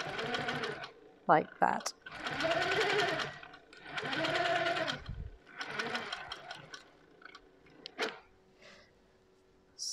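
A Pro-Stitcher computerized quilting machine on a frame stitches placemats in several whirring bursts separated by pauses and clicks, while a person talks briefly nearby.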